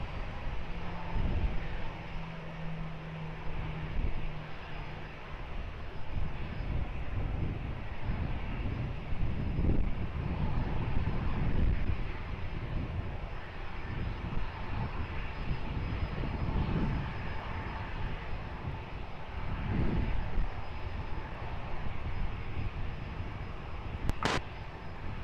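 An airplane takes off at Lisbon Airport, its engines building into a loud, sustained roar heard from a distance, with gusts of wind buffeting the microphone.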